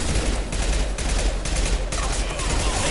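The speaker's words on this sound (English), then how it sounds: "Heavy fire!" Heavy gunfire fills a combat scene in the video game Mass Effect Legendary Edition, with dense, continuous loud bursts and rattling shots throughout.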